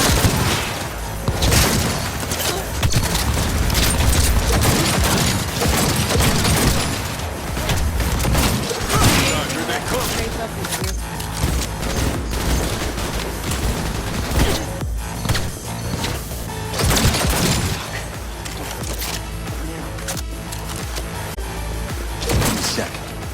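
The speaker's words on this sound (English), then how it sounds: "I'm taking fire!" Heavy gunfire erupts in a Cyberpunk 2077 firefight, with sustained loud bursts, booms and crashing impacts layered densely throughout.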